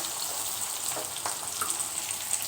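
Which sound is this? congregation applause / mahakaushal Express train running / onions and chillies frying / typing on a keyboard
onions and chillies frying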